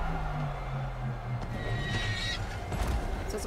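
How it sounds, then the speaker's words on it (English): A horse whinnies loudly nearby over a steady low rumble, with a few hoof clops and background game noise around it, in Horizon Zero Dawn. "Sounds like a horse."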